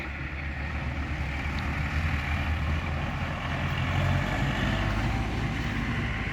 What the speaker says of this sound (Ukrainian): Це трактор комунгоспівський.